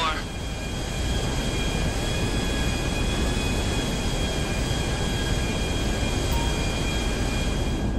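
Military jets in GTA Online roar steadily as a loud, continuous broadband rush that holds the full length without breaks.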